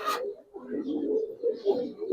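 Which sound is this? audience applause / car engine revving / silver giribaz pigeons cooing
silver giribaz pigeons cooing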